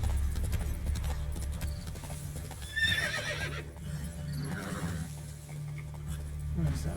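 A horse whinnies clearly in The Witcher 3: Wild Hunt, a sharp neigh near the middle over a low steady drone, while hooves clop and a voice talks briefly.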